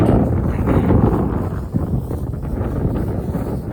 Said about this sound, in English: Flint Hills, Kansas wind, we're used to it. It may be hard to hear me at times